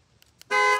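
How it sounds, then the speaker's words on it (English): A Jeep's panic alarm sounds a single loud honk after two faint clicks, close and sharp, sustained for about a third of a second. "That's the panic alarm."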